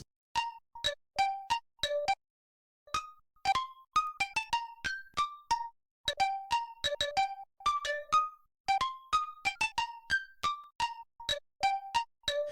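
A chopped, loosely swung hip-hop beat plays alone: short plucky melodic hits in uneven rhythm, with a brief gap before the pattern resumes.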